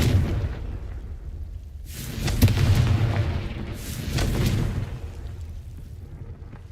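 Confringo explosion spell cast in the wizarding game Hogwarts Legacy, two deep booming blasts a couple of seconds apart, each swelling and rumbling out over a low background.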